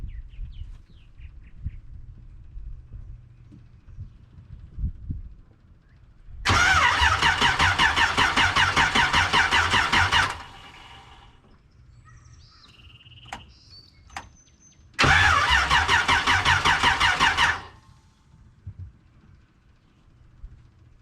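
An engine being cranked on a project car in a garage with hoses still needing sorting, two long loud bursts of steady cranking separated by a pause, with quiet clanks and background noise between them.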